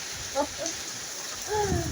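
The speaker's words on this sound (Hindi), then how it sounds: "बारिश की बूंदें यहाँ तक पड़ रही है" Raindrops patter in a constant soft hiss during strong winds, with a couple of brief spoken sounds on top.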